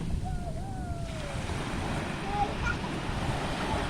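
Sea waves at a beach with steady surf wash and wind buffeting the microphone, a continuous rushing roar, with faint voices in the background.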